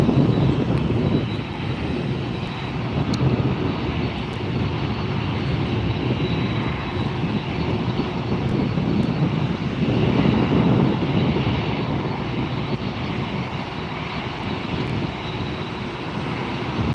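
Delta airliner taxiing and turning at LAX airport, a steady jet engine roar and whine holding at moderate distance for the full stretch, swelling slightly midway, with no talk.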